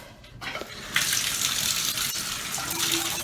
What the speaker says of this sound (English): I like to rinse off the shower stall, because one of the reasons I rinse it is because it can get slippery